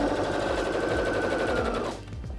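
A Singer HD6600C sewing machine stitches at a fast, steady rattle with a whirring motor, loud and close for about two seconds before slowing and stopping, with no talking.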